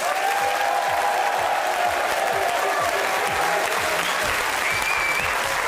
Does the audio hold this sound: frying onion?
no